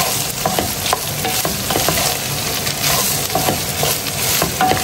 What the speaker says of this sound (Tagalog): Let's put the white onion now.